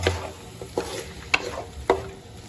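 Ketchup-based sauce for vegetable spaghetti being stirred and fried in a pan, with a soft steady sizzle broken by four or five sharp spoon scrapes at uneven intervals, close and fairly quiet with no talking.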